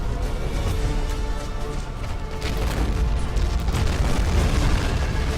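A destroyed vehicle blows up in the WWII strategy game Men of War, its magazine or fuel supply going off in a loud, sustained, rumbling blast that fills the whole stretch without pause.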